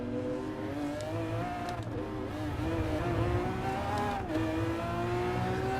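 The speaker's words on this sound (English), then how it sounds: "So there's the Lamborghini Aventador" A 2015 Lamborghini Aventador driven in Gran Turismo Sport in VR, its engine droning loud and close as it revs up and down through gear changes with no talk over it.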